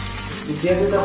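Panch phoron and onion sizzling in hot oil in a pan, a steady crackling fry that swells louder and busier midway through as the onion goes in, with no talking.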